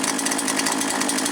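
Poulan Pro chainsaw fitted with a 16-inch Oregon bar and chain cutting through ash wood, a loud, steady high-pitched buzzing whine held close up without pause.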